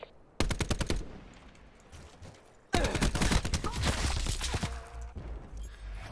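Black Ops 4 gunfire in two loud close bursts of rapid automatic shots, a short volley followed after a pause by a longer sustained stream with game noise underneath.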